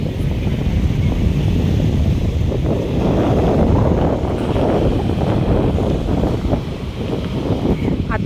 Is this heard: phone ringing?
no